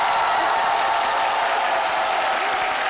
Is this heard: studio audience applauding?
yes